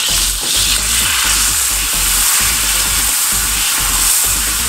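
Mirin, soy sauce and sake simmer in a pan to cook off the alcohol for a garlic chicken-skin rice bowl, giving a steady close hiss over soft, irregular bubbling throughout.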